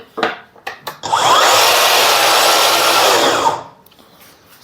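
A Festool Kapex KSC 60 cordless miter saw spins up and cuts for about two and a half seconds with a loud, steady high whine, while its connected dust extractor runs alongside, then spins down, after a few brief knocks.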